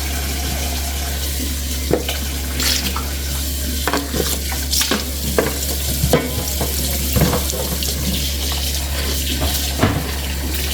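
Water pours into a pot while Mbia is cooked, a steady loud rush with scattered clinks and stirring knocks over a constant low hum.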